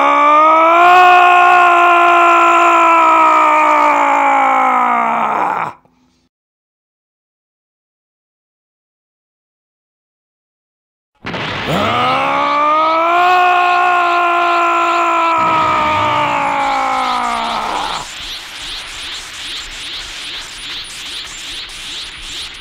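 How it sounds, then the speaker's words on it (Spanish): A voice lets out a long, loud, strained anime-style battle scream in the manner of Dragon Ball, held for several seconds, then after a silent gap rises into a second sustained powered-up scream that breaks into rough, raspy bursts. "grite todo el tiempo como lo hacen en Dragon Ball"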